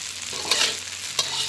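Egg sizzling in a hot wok for stir-fried wide rice noodles with pork, a steady close crackle with two brief louder spatters as it is stirred.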